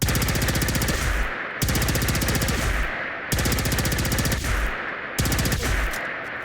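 Plasma rifle fire from the video game Fallout 4, boosted by a louder-weapons mod, comes as four long bursts of rapid, very loud automatic shots. Each burst ends in a short decaying tail before the next begins.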